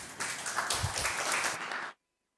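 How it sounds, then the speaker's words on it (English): An audience at a health tech startup pitch event applauds for a team, a brief burst of steady clapping lasting about two seconds before cutting off abruptly to silence. "Let's give the round of applause for the team"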